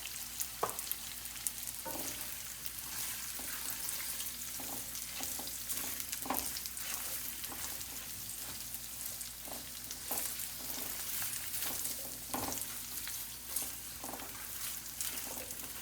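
Fresh turmeric for a pickle fries in a pan with a constant quiet sizzle, broken by regular soft clinks and scrapes of a spoon stirring at a steady pace, nearby and wordless.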